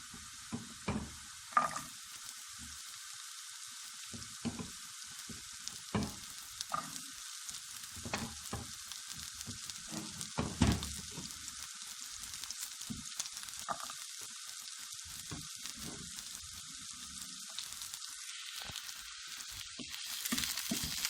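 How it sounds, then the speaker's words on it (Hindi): Grated carrots sizzle steadily in a hot oiled pan for an omelette, a constant hiss broken by repeated scraping stirs of a spatula, close and moderately loud with no talking. "इसको भी अच्छे से फ्राई करते हैं।"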